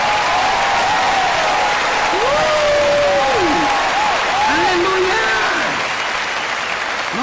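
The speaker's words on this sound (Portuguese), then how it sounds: "vamos dar as mãos aqui, um grande aplauso" Sustained audience applause fills a church service after a call to join hands, a dense steady clatter of many hands with faint voices and a drifting melodic tone underneath.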